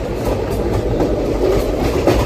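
A special passenger train from Rajahmundry to Araku runs slowly on its rails, with a loud, close, rumbling roar and faint rhythmic wheel clatter.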